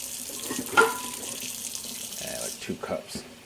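A kitchen tap runs water into a pot for turkey noodle soup, a soft splashing stream with a few clinks and bumps, fairly close and moderately quiet.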